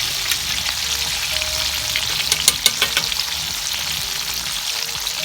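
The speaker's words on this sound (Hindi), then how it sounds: "गोल्डन ब्राउन होने तक इनको फ्राई करेंगे।" Suji cookies frying in hot oil until golden brown, giving a steady, dense sizzle with a few sharper crackles and pops partway through, close and continuous with no talking.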